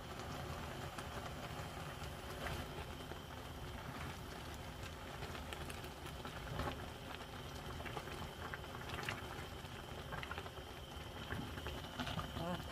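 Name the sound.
siraegi and dried pollock stew coming to a boil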